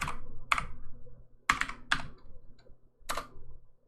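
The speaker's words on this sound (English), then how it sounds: "Try to just type it." Quick bursts of keystrokes on a computer keyboard, several short clusters of clicky taps separated by pauses, close and clear with no talking.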